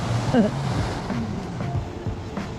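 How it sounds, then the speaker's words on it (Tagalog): A steady wash of ocean surf and wind roars over the whole clip at the beach in Dingalan, with a voice briefly exclaiming near the start. "Lakas sa alon, no? What a wave!"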